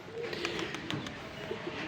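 Pet pigeons emerging from their coop give soft, low coos in short repeated bursts, fairly faint against a quiet background, with no speech.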